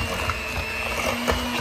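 An electric mixer whirs steadily through peanut butter cookie dough, a constant close motor hum with a faint rattling texture and no pauses.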